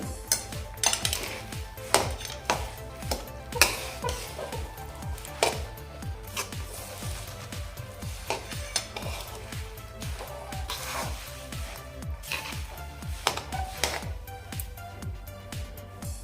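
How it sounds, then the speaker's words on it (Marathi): A spoon scrapes and knocks steadily against a pan while a sesame ladoo mixture is stirred with cardamom and nutmeg powder. The taps and scrapes come close and irregular over a continuous low background. "ह्यामध्ये आपण वेलची आणि जायफळची जी पूड घेतली होती ती आता या स्टेजला आपण यामध्ये मिक्स करून घेऊया"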